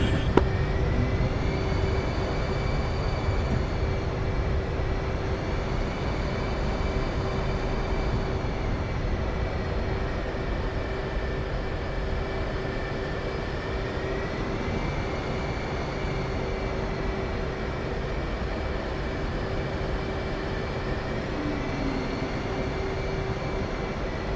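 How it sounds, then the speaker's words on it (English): Aircraft taxiing onto a runway in the video game Arma Reforger, a steady engine drone with a sustained tonal whine that slowly rises and falls, continuous and close, with no talking. "Yeah, I'm taxiing forward, actually onto the runway."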